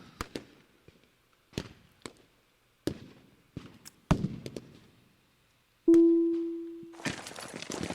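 Sharp gunfire shots from the Lock & Load Tactical video game crack out one at a time at uneven intervals, followed by a brief steady tone and then a dense burst of rapid fire near the end.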